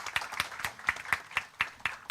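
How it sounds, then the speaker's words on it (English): Sparse, evenly spaced claps for Professor V. Subramanian at a food science conference, about nine distinct hand claps in a roughly steady rhythm, faint and slightly distant. "A big round of applause to Professor V."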